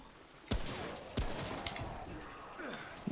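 Gunfire in the shooter video game Remnant: a few sharp, loud shots at irregular intervals over a busy game soundscape, with a player's voice talking faintly underneath.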